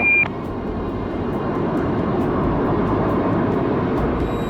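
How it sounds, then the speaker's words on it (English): A British aircraft flies overhead with a loud, steady engine roar and broad rumbling noise that holds for several seconds after a brief sharp tone at the start, with no voices. "This is one of the most amazing and most extraordinary aircraft in the world."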